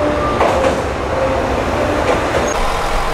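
A JR West limited express train arrives from Osaka at Tottori station, its loud rumbling rolling noise steady and close, with faint squeals over a heavy low drone and no talk.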